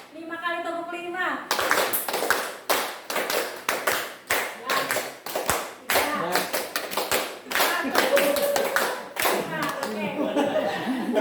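A group claps out a counted pattern in unison at the close of a community gathering, with sharp, evenly spaced bursts of hand claps in quick sets, loud and near, after a leader's voice calls the count.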